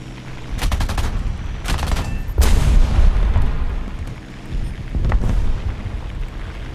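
Aircraft machine-gun fire in the War Thunder air combat video game, from a Ro.44 floatplane. Several short bursts of rapid shots sound over a steady engine drone.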